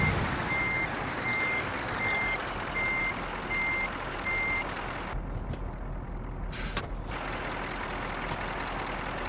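In a trucking video game, a Scania truck reverses into a parking space, its evenly spaced reversing beeps repeating over a steady engine rumble, followed by a brief hiss like an air brake and then more engine noise.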